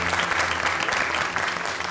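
Applause for a newlywed couple from the guests on the set of a Turkish cooking-competition wedding show, steady dense clapping filling the room without a break.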